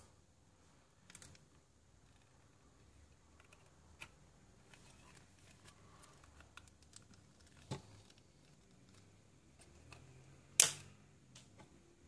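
A few faint, sparse clicks in a quiet room, ending with one sharp snip of cutters near the end.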